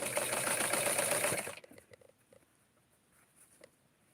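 A sewing machine stitching the hem of a short mod dress runs in a steady fast whirring patter for about a second and a half, then stops, leaving faint clicks and handling noises.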